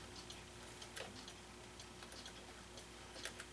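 An old 8-day Regula 24 cuckoo clock movement ticks faintly and steadily, small regular ticks over a soft background hiss, heard alone without talk.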